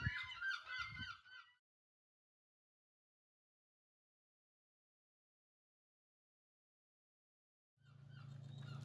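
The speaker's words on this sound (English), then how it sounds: "Excuse the seagulls, they absolutely drive me insane" Seagulls call loudly and close on a beach, a burst of overlapping squawks in the first moments, followed by a long silence and then a steady low rumble of wind or surf.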